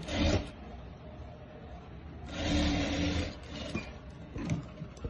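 A sewing machine stitches over a border design at close range, running in irregular mechanical bursts with short pauses between runs.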